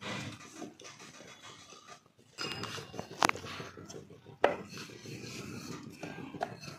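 Methi thepla flatbread dough is rolled out thin on a board, giving soft back-and-forth rubbing and scraping strokes close by, with a couple of sharp taps from the rolling pin.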